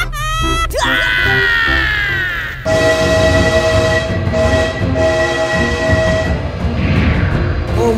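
A cartoon train in an animated car game blasts its horn and rolls along on rails, loud and close, with a brief shrill whistle or scream at the start.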